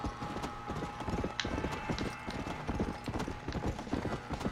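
Steady, rapid clip-clop of horse hooves at a trot in the video game Red Dead Redemption: Undead Nightmare, continuous and close, with a busy rhythmic patter throughout.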